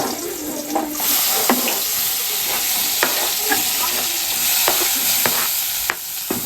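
Onion, tomato, ginger and garlic frying in oil, a constant close sizzle broken by occasional sharp clicks of a utensil stirring the pan.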